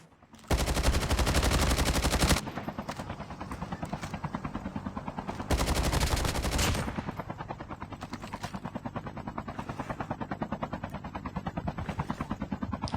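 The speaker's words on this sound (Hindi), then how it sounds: "गन हाथ में ली और मारना शुरू किया।" Rapid automatic gunfire in a Call of Duty Mobile battle royale squad match, dense close bursts of machine-gun rattle with a steady helicopter-like drone beneath, continuous and loud.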